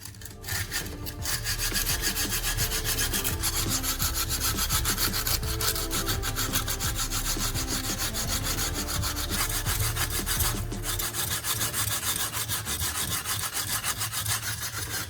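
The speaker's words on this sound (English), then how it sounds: "roll sandpaper into a tight tube and polish the inside of the eye" Sandpaper rolled into a tight tube rasps continuously and loudly as it polishes the inside of a hammerhead eye, a dense steady back-and-forth scrubbing held close for the whole stretch.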